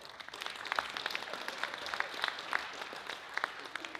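Applause from an audience at a Rotary club meeting, a steady wash of clapping hands with some sharper individual claps standing out, sustained evenly for the whole stretch at moderate loudness.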